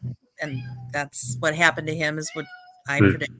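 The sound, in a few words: pet cat meowing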